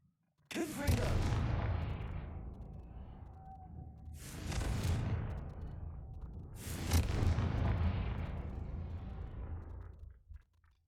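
Confringo fire spell from the video game Hogwarts Legacy, heard as three loud booming explosions a couple of seconds apart, each with a sharp crack that decays into a long rumbling tail.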